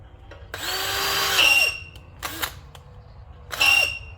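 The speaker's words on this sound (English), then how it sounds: "now let's drill this one out" A power drill bites into a metal part in three bursts, the first long with a winding pitch, then two shorter whirs, each stopping abruptly with quiet gaps between.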